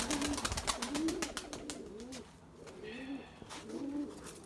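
Purebred Erzurum white breeding pigeons coo in a loft, several soft rolling coos repeating close by, mixed with faint fluttering and rustling.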